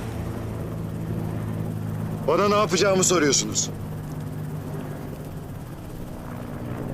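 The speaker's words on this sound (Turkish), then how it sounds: "helikopterlere bakmayın" A helicopter drones in the background while someone speaks briefly over it.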